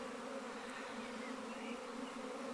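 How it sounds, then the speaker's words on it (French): A swarm of honey bees spread across a hedge buzzes in a steady, dense drone, faint and continuous, with no voices over it. "là on a un essaim qui est explosé sur toute une haie"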